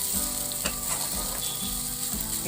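Discarded vegetable peels fry in a pan over a gas flame, a steady dense sizzle with occasional stirring scrapes, close and loud with no one talking.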